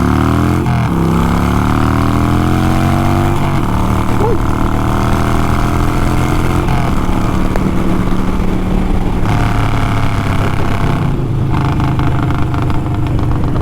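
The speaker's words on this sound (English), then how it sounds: "Tell you what, this exhaust sounds good." A Harley-Davidson Sportster motorcycle drones loudly from close by, its mostly straight exhaust rising and shifting in pitch as it revs through gears, with a voice talking over it.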